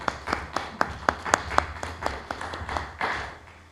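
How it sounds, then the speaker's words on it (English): Scattered hand claps from a small audience at a Masonic convocation of the Maine Masonic College, a dozen or so distinct sharp claps in uneven rhythm that thin out and blur into soft rustle toward the end. "round of applause for Brian"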